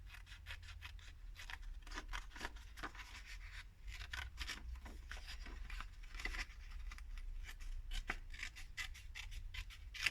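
Scissors cut through a 30x30 paper sheet in quick, quiet snips and rustling scrapes, close and faint with no talking.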